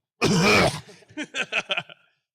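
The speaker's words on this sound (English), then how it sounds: "Insert smoker's cough." A harsh, raspy smoker's cough burst followed by a string of shorter, wheezy hacking coughs that trail off, close and loud.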